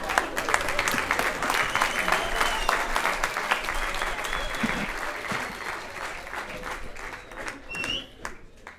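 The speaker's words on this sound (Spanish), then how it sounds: "Un aplauso para mi maestro" A comedy club audience in Colombia breaks into loud, sustained applause for a performer, dense clapping that holds steady for several seconds and then tapers slightly near the end, with some crowd voices mixed in.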